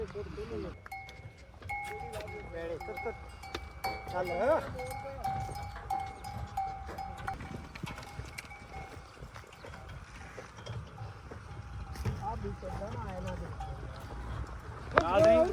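Pair of bullocks drawing a mung bean seed drill across a field, quiet clanking and ratcheting of the mechanism with faint bell-like tones and irregular knocks, under ongoing talk.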